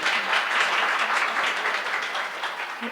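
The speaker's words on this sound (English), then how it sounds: "That is very well deserved applause for a very strong woman, Dr. Anand." An audience at a book launch applauds with steady, dense clapping that fills the whole stretch without a break, close and loud. No voices are heard over it.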